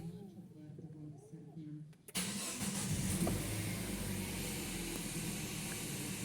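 A Peugeot 3008 with the 1.6 EP6 petrol engine cranks and fires, then settles into a steady idle that runs on close by; a voice speaks quietly before the start.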